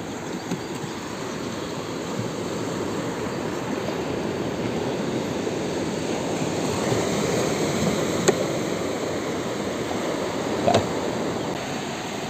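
Seashore waves on the Malvan coast produce a continuous broad roar of surf that holds steady at a fairly loud level, with a couple of faint brief clicks and no speech.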